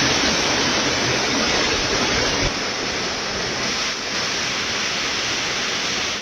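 Rushing floodwater from heavy rain waterlogging pours in a loud, steady broadband roar, continuous and close with no pauses or voices over it.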